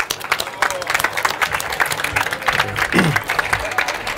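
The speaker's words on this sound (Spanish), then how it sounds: "Un aplauso." An audience at an anniversary and resort inauguration event in Estepona applauds the town's mayor, José María García, with moderate, uneven clapping throughout and a voice briefly heard underneath.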